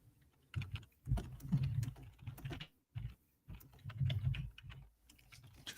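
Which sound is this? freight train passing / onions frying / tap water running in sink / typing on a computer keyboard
typing on a computer keyboard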